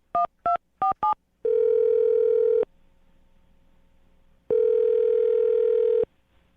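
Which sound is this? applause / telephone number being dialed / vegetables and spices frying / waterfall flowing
telephone number being dialed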